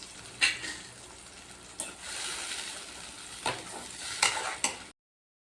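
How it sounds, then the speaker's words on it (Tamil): Blended tomato puree goes into a hot frying pan for kara kuzhambu. Soft sizzling and hissing continue throughout, with a few louder splashes and stirring scrapes, and the sound cuts off near the end. "அடுத்து தக்காளி அடித்து வச்சுருந்தோம் இல்லையா, அதை ஊற்றிக்கலாம்."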